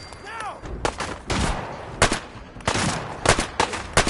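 Rapid bursts of gunfire during a Fallout 4 combat scene, with several loud, sharp volleys spread across the stretch, some clustered like automatic fire, over a busy background of game sounds.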